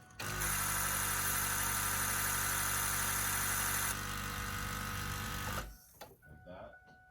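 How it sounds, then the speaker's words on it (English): A Ford F250's electric diesel fuel pump priming, buzzing loudly and steadily with a droning hum for about five seconds, then cutting off abruptly, leaving faint clicks and rustling. "let the fuel pump fill up that bowl"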